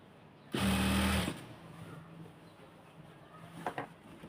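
A sewing machine runs in one short, loud burst as it stitches along the edge of elastic on a salwar. Faint clicks and handling noises follow, with no talk.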